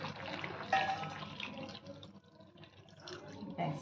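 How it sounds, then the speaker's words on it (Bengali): Hot water splashes and trickles into a cooking pot of chicken and potatoes for a few seconds, a soft, fairly quiet pour in a home kitchen. "এবার আমি একটু জল ঢেলে দেবো, গরম জল এর সঙ্গে মিশিয়ে দেবো।"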